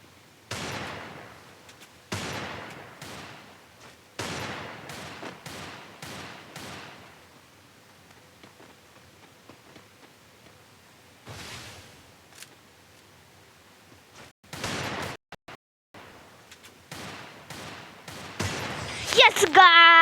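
Gunfire in the Free Fire video game: repeated sharp bursts and rapid volleys separated by quiet gaps, with a louder cluster of shots near the end and a voice talking intermittently.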